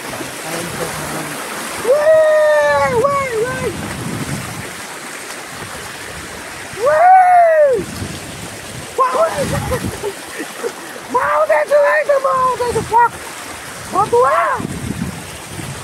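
A river stream flows continuously as a steady rushing wash, with people talking loudly over it throughout.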